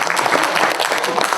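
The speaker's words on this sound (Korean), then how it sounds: "박수 한번 주시면 안 되겠습니다." Audience at an academic conference applauds in a dense, continuous burst of clapping filling the short moment.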